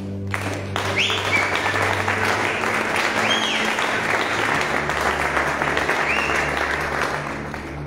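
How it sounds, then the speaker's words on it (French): A youth conference audience applauds steadily as Brother Christian walks up, with a dense, sustained clapping that holds loud for several seconds and fades slightly at the end. "Est-ce que vous pouvez acclamer pendant qu'il avance?"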